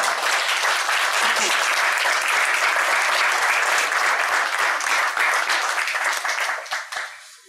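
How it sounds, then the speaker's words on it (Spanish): Audience at a talk on colonial legends in Guayaquil applauds to welcome the speaker: steady, dense clapping from a sizable crowd filling the room, sustained before tapering off near the end. "Lo recibimos con un fuerte aplauso."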